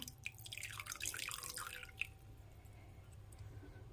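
A brief, soft trickle of vinegar being poured into homemade tomato sauce, with a few drips, quiet against a low background hum.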